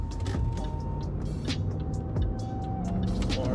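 A high-mileage Range Rover Sport accelerating hard from 20 to 70 mph, with a steady engine drone and road noise heard from inside the cabin.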